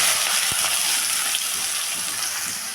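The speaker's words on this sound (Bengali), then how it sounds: "পেঁয়াজটাকে আগে ভেজে নেব" Chopped onion frying in hot oil with whole cumin, cardamom, cinnamon and cloves, a loud continuous sizzle and hiss close by, with a single light knock near the start and no talking.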